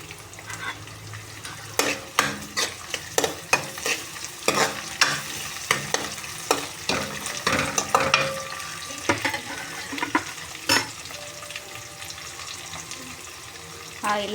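Curry leaves fry in hot oil for a chicken curry, crackling and spluttering in bursts under close stirring clatter against the pan, then settling into a quieter sizzle.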